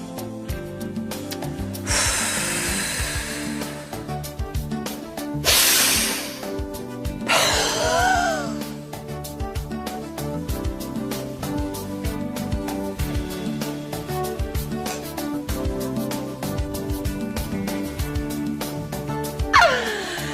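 Forceful breathing during a bodyflex exercise for beginners, with several sharp, noisy exhalations and gasping inhales set against steady background music, each blast lasting a second or two.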